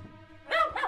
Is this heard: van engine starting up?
no